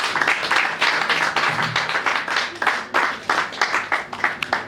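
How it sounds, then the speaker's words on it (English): Attendees at an anniversary general meeting clap together, a lively burst of applause that becomes sparser and more rhythmic, with separate claps standing out toward the end. "clap for yourself"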